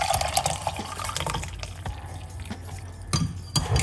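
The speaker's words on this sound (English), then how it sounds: "Pour it out like this." Hot water pours out of a container with a splashing, dripping trickle, close and fairly loud, tapering off before a few final splashes.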